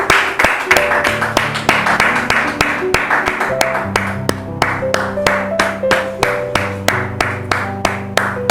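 Hands clap in a steady, rhythmic beat from an audience welcoming a pastor at a church gathering, loud and close, layered over sustained music.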